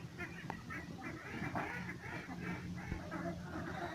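Ducks on a fish pond at a duck-and-catfish farm, giving steady overlapping quacks and honks close by, with a continuous low hum under them and a single sharp knock.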